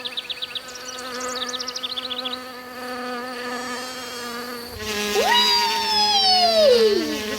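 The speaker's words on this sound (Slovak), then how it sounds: "Včelička!" Cartoon bee buzzing, a loud sustained nasal drone with wavering pitch, joined by a sliding tone and chirpy effects partway through, no talk.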